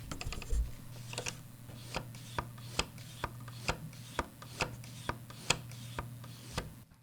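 Faders on a Pioneer DJM-V10 DJ mixer slide back and forth in a quiet, close series of soft rubbing strokes, each ending in a small tap, at a roughly even rhythm over a faint steady hum.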